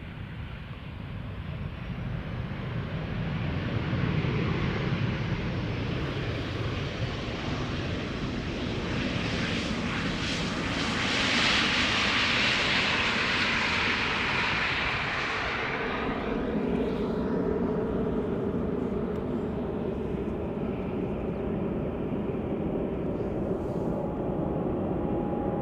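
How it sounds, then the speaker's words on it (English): A KLM Boeing 737-700 jet airliner arriving at Amsterdam Schiphol, loud sustained engine roar that swells and then settles into a steady rumble, heard from nearby. "this 737-700 having arrived from London Heathrow"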